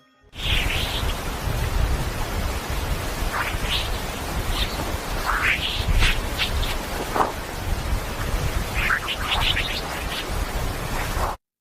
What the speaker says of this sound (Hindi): यह उन डिस्पोज बीप की आवाज है जो सौर तूफानों के जरिए सफर करती है